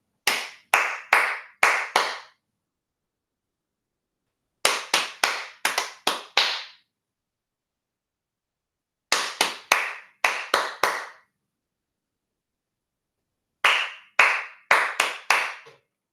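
Hands clap out short rhythmic patterns for a classroom percussion game: four separate bursts of four or five crisp, close claps, each followed by a few seconds of silence.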